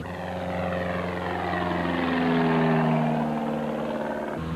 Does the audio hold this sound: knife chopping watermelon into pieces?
no